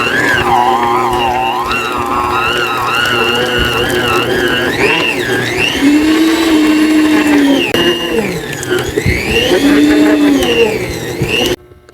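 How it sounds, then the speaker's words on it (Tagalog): A stand mixer whirs loudly as it blends pie dough with butter for a pineapple pie, its motor pitch wavering and straining as the dough thickens, with a brief stop at the end. "At hahaluin nga natin uli hanggang magsama ang dough at ang ating butter."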